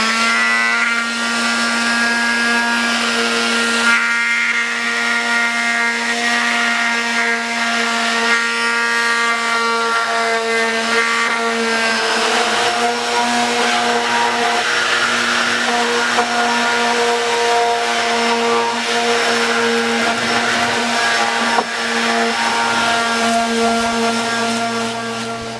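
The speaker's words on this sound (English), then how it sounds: "So I sand on the outs, on the edges like this" A power sander works along the edges of a plastic barrel, a loud, steady motor whine with a high pitch held for the whole stretch, alone and close up, shifting slightly in load as the pad presses into the plastic.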